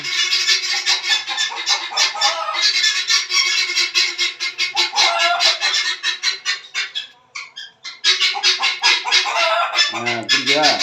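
Chickens in a home garden being dosed with medicine drops cluck and squawk almost continuously, a busy, close chorus of rapid calls with brief pauses and a person murmuring now and then.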